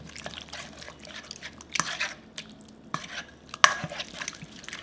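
Plastic rice scoop stirring and mixing a Korean sweet and sour seaweed salad, giving soft, wet, squelching scrapes in irregular bursts with a few sharper clicks, close and fairly quiet.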